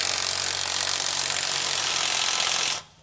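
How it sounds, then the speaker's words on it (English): A 16mm socket and an 18mm wrench tighten the smaller bolts while fitting a Roadmaster rear anti-sway bar on a 2017 Fleetwood motorhome. A loud, steady grinding rasp runs close up for nearly three seconds, then cuts off abruptly. "we're going to be using a 16mm socket and 18mm wrench to tighten it down"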